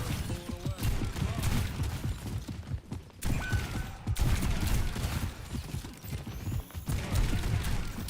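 Sustained gunfire aimed at Roadhog during a hero-shooter match, dense bursts of shots and thuds filling most of the stretch with brief gaps, loud and close.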